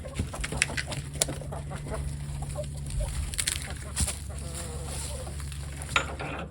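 Chickens cluck and squawk in a muddy chicken coop, scattered calls and short bursts rising over a steady low hum, with faint rustling and shuffling nearby.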